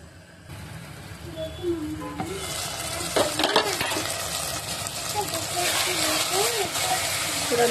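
Egg and tomato curry stirred and frying in a pan with turmeric and salt, a steady sizzle running throughout with scraping spoon strokes and occasional clinks against the pan, while a voice speaks over it.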